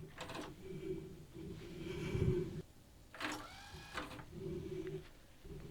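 A TEAC V-900X cassette deck with dbx, loaded with a TDK AR tape, runs its auto calibration: a series of close mechanical clicks and whirring transport sounds with short steady tones in between, moderately quiet, with no talk.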